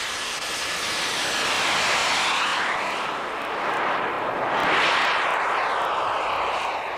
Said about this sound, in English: This is his first jet turbine-powered model.